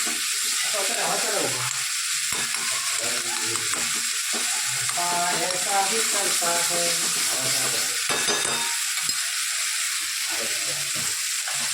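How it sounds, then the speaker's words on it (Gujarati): Tempering sizzles in a pan for pani puri sambharo in Ahmedabad, with a steady frying hiss, stirring clatter and brief spoon scrapes, heard close throughout. "એટલે બસ ખાલી આપણે સોતે કરીને વઘાર જ કરવાનું છે."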